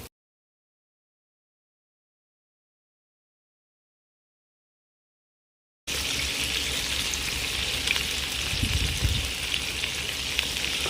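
Sausage and meatballs frying in olive oil in a pan make a steady, dense sizzle that starts abruptly after about six seconds of silence and continues evenly at moderate loudness.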